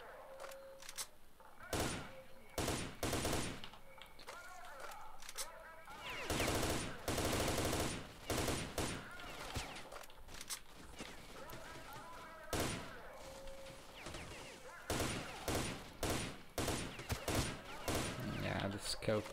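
Gunfire in S.T.A.L.K.E.R.: Shadow of Chernobyl, with repeated loud bursts of shots in close clusters through the stretch, over game sounds with faint ambience between volleys.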